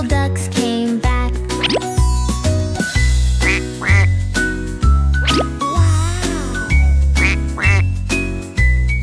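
Repeated duck quacks over a loud, bouncy children's tune with steady beats and chiming notes.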